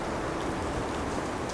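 Steady rain falls on the outdoor deck of a cruise ship, a dense, even hiss of drops hitting the surface that continues unbroken throughout.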